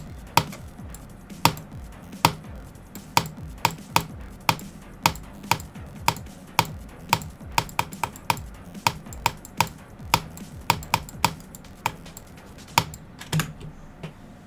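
Typing on a metal Azerwin computer keyboard: a steady run of crisp, clicky keystrokes at an even pace with occasional louder taps, close and alone without talk.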